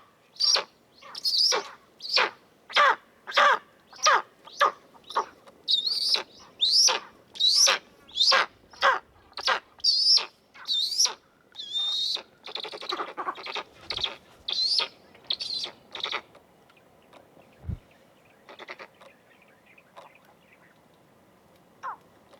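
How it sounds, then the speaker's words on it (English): Tawny eagles in Kruger Park call in a long series of sharp, repeated yelping notes at a quick, steady pace, clear against a quiet background, then tail off into a few scattered, fainter calls. "Apparently, it's not very common to hear tawny eagles vocalize."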